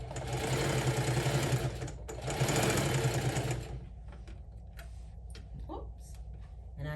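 Sewing machine stitching fabric for a quilted crossbody handbag, a steady close whir in two bursts of about two seconds each, then stopping with faint handling noises after.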